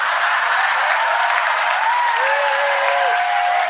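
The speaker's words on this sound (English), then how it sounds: "Give her a hand, ladies and gentlemen." Audience applause at a live coaching seminar, a dense sustained clapping from a large crowd with a few faint tones rising near the end.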